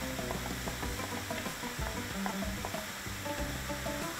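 Onion and meatballs sauté in a pan, a dense continuous sizzle with busy crackling and scraping stirs layered over it, close and steady for the whole stretch.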